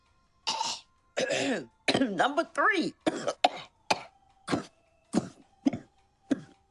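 Several short coughs and throat-clearing bursts from a voice amid cartoon talk about common cold symptoms, spaced across the clip alongside spoken words.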